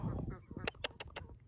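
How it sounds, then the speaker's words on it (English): Newly hatched Pekin ducklings give a run of short, faint quacks and peeps in quick succession, mixed with quiet exclamations from a nearby person. "Baby duck"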